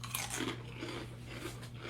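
Crunchy Cheetos being bitten and chewed close to the mic at a homemade burrito bowl mukbang, giving a steady run of crisp crunches with a low hum underneath and no talking.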